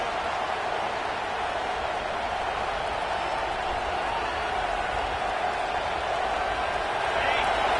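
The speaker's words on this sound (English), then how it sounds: "Listen to this crowd just shaking the girders of this place, trying to help their defense." A packed stadium crowd at a football game roars continuously as the home defense takes the field, a dense, sustained wall of cheering, with commentary-style talk likely mixed in.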